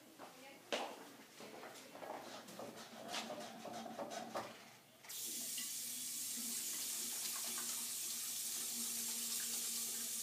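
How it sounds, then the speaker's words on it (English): Water runs from a tap in a physical therapy practice room for hand washing. Clattering and light handling noises come first, then a steady, even stream of water continues to the end. "Do not forget to wash your hands."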